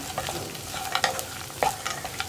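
Soaked flattened rice (aval) being stirred into upma in a pan, with a steady soft sizzle and intermittent scraping strokes of a spoon against the pan, close and moderately loud.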